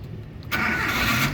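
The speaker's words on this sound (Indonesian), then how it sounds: "Nah, coba kita nyalakan." A 2008 Suzuki APV Arena 1.5 GX with manual transmission cranks and fires up after a quiet pause, its engine catching abruptly and settling into a loud, steady run.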